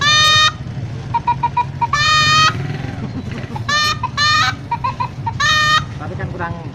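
A toy water bottle crows like a rooster electronically in four shrill bursts, with small chirpy beeps between them and people talking in the background.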